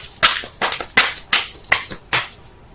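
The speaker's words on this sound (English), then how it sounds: "Let me pull one more card for that." Tarot cards being shuffled and pulled from a deck, a series of about six crisp, close papery snaps and slides at an uneven rhythm with short gaps between them, no voices.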